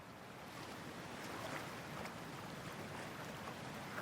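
Steady ocean surf washes and hisses continuously in Cyberpunk 2077, a soft, even roar with faint rising swells and no voices.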